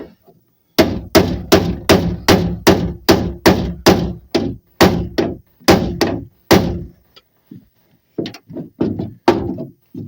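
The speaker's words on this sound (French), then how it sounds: "je vais prendre marteau burin et je reprends après" Hammer and chisel strike a Peugeot 306 door in a fast, even run of about fourteen loud, close metallic blows, then a short pause and a few lighter, scattered knocks.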